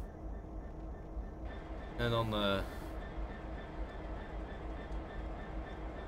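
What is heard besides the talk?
train uncoupling in Train Simulator 2019 video game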